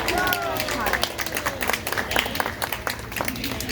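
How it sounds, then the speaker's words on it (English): Zoo audience claps for a sea lion after an afternoon pool demonstration at Denver Zoo, a brisk scatter of hand claps with some cheering voices and crowd murmur, fairly close and steady throughout. "Can you guys give her a nice big round of applause?"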